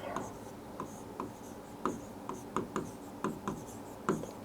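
Chalk or a marker writes a definition on a classroom board, producing a series of soft, close scratching strokes and taps in an irregular rhythm over a quiet room hum.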